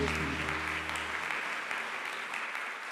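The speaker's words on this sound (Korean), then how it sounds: "감사와 영광의 박수 한 번 더 올려드리겠습니다." A Korean church congregation applauds during a Sunday worship service, a full steady round of clapping that lingers as a sustained organ chord fades out beneath it.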